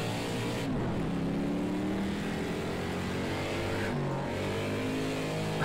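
Race car engine in Project Cars 2 during a snowy race, a steady droning motor whose pitch rises and falls with gear changes, continuous and moderately loud.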